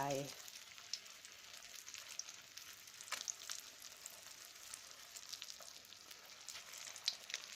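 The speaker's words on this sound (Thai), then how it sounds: "ทอดไฟอ่อน ๆไม่ต้องเร่งไฟแรงเขาจะได้ไม่ไหม้" Fish shallow-fried over low heat in a modest amount of oil in a wok-style pan, giving a steady, close, dense sizzle and crackle with occasional sharper pops, no talk over it.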